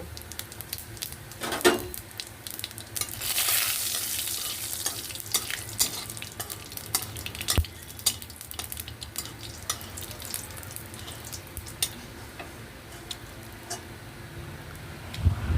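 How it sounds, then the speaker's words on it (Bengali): Cumin seeds frying in a little oil for a Bengali home-cooked dish, a close, crackling sizzle with scattered pops and occasional utensil scrapes from stirring, steady at moderate loudness. "প্রথমে আমি একটু জিরে ভেজে নেব ভেজে এটা তুলে নেব"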